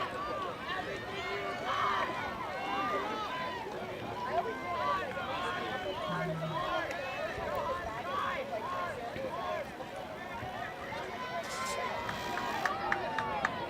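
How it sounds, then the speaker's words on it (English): A crowd at a track championship race roars and cheers steadily, a dense wash of many voices filling the stands, with an announcer's voice running over the noise throughout. "you can hear the crowd getting very hype, very loud, cheering the student athletes on"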